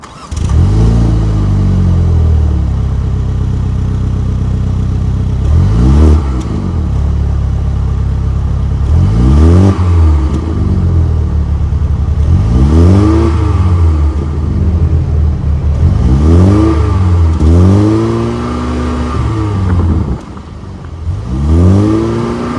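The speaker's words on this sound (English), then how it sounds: "let's fire up this 2-liter turbo 4-cylinder and hear how she sounds" A 2024 Mini Clubman S with a 2-liter turbo four-cylinder starts and then revs repeatedly, each loud, close blip rising and falling over a steady idle, with about six revs in a regular rhythm.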